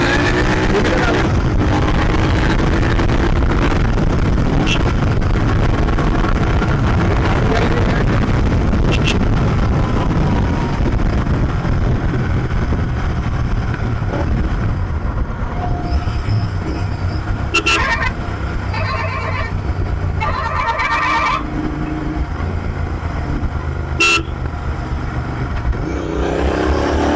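A Royal Enfield Continental GT650, converted from an Interceptor 650, accelerates hard in first gear toward about 7500 rpm. The engine note climbs steadily under heavy wind buffeting, then fades and eases off with a few sharp transient clicks near the end.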